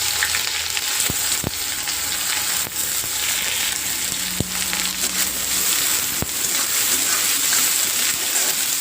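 Chopped onion goes into hot oil with crushed garlic and crackling mustard seeds and cumin, frying with a steady close sizzle, brief stirring scrapes and occasional pops for Maharashtrian ghevda bhaji.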